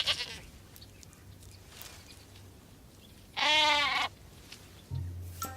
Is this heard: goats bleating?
yes